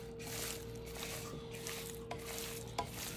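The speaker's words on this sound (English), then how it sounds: "So we got all that coated, mixed about." Chicken thighs being stirred and tossed in a wet liquid marinade with smoked paprika and Montreal steak seasoning, giving soft squishy, sticky mixing sounds close up with a few small clicks, no talking.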